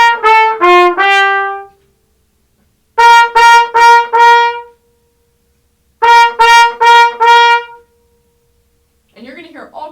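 Trumpet plays short groups of sharply accented notes with clear pauses between them. The phrases are loud and close, a brief spoken voice comes at the end.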